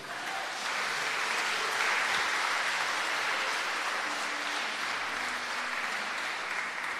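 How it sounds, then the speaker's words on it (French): A church congregation applauds to acclaim Jesus during a French-language prayer service, a steady broadband wash of clapping that carries at an even level for the full stretch, with a few faint tones underneath. "Tu peux acclamer Jésus."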